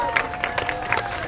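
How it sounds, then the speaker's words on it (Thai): Outside the Bangkok Special Prison, a crowd claps in a short ragged burst of separate hand claps heard at moderate distance, with faint voices in the background. "มีการปรบมือ"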